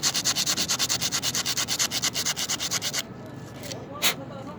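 Sandpaper rubs back and forth inside a Suzuki Mehran car part in quick, even rasping strokes for about three seconds, then stops, leaving a faint scrape and a brief knock.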